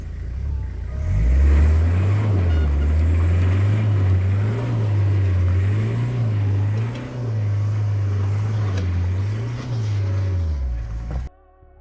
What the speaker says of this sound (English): we'll jump in the mighty Helix, the work ute, and we'll go have a look